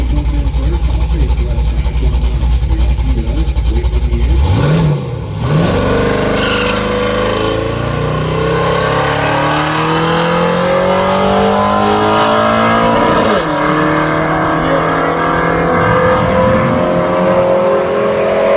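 A car launches down a drag strip from a standing start, its engine roaring louder and climbing through the gears in rising sweeps over about thirteen seconds, with a voice heard near the start.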